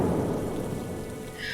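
Steady rain pours down outside a coffee shop, a dense, even hiss of falling water with a low rumble beneath, continuous and fairly loud throughout.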